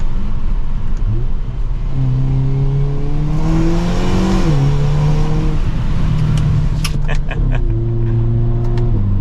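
A loud 2023 Hyundai Kona N exhaust rumbles and rises in pitch as the engine accelerates, dips briefly, then pulls again, with a faint whirring underneath.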